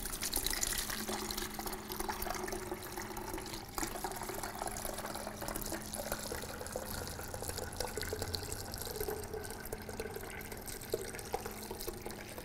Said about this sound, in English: pour it through.